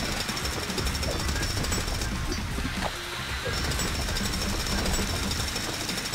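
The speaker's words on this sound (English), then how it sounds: "I drill and I drill again, huh?" Jackhammer drilling at a construction site in Lego City Undercover video game, a loud continuous rattling hammer that runs almost unbroken with a brief dip midway.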